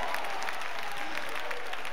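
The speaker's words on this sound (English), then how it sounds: "clap your hands and give God praise." Church congregation at a homegoing funeral service clapping hands together in praise, steady and sustained applause from a large crowd, fairly loud throughout with faint voices mixed in.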